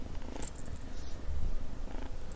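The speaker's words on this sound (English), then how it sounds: "So this is our kitty" A 12-week-old female kitten purring close up, a soft continuous low rumble with steady breathy rhythm, alone without talk.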